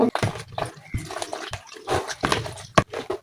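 Phenyl disinfectant liquid poured into a homemade cleaning mixture, giving intermittent splashing and sloshing bursts that stop and start, close and moderately loud, with no talk over it.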